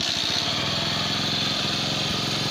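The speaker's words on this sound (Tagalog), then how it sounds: "So ngayon pandarin na natin kung aandar siya." Bajaj CT 100 motorcycle engine idling close by after starting, a steady puttering single-cylinder chug with slight rhythm changes, loud and alone without talk.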